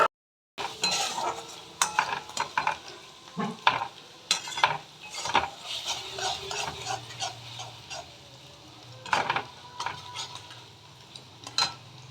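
Paneer cubes fry in oil in a pan with a soft sizzle, as a metal spoon scrapes and knocks against the pan in irregular stirring strokes, close up and without talk.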